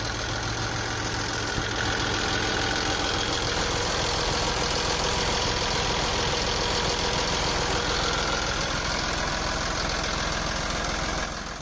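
The turbo diesel engine of a Massey Ferguson 9500 58hp 4x4 tractor with a rotary fuel pump runs steadily at idle, a continuous loud rumble with a rhythmic knocking pulse and no voices.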